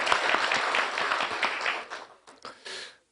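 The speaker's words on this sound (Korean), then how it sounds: "수고하는 우리 찬양대 위해서 격려의 박수 한번" A church congregation gives the choir a full round of applause after a cantata performance. The steady, dense clapping fills the room, then tapers off into a few scattered claps and fades out.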